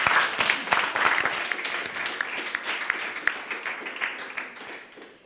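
A studio audience at an Italian sports TV show claps steadily for several seconds, a dense, loud wash of applause that gradually eases off toward the end.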